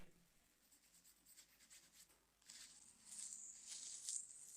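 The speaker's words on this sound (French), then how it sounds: "Je peux faire un frottis de la forme avec un crayon." A pencil rubbing over masking tape to take a rubbing of a shape for a cocktail cabinet veneer repair: soft, faint scratchy strokes, growing denser and a little louder partway through.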